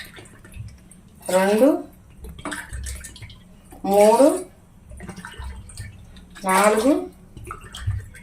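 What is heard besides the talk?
pouring glasses of water into pot for Maggi noodles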